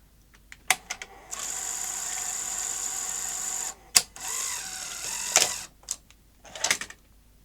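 A Sony SuperBeta SL-HF900 VCR's front-loading mechanism whirs and clicks as it ejects, with a sustained motor drone, sharp mechanical clacks and short bursts of grinding, close and fairly quiet.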